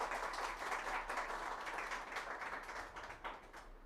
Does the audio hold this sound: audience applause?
yes